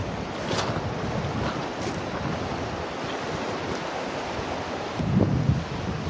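Surf washing onto the Arctic Ocean shore at Tuktoyaktuk, a steady broadband wash of waves mixed with strong wind buffeting the microphone, with a slightly louder surge near the end.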